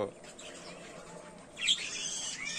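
A budgerigar colony chirps faintly, with a brighter burst of calls near the end, amid low room noise and quiet talk.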